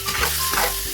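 Tomatoes, garlic and onion hit hot oil in a pan for a Filipino mung bean stew, sizzling loudly and steadily while a utensil stirs and scrapes through them, close up with no talk.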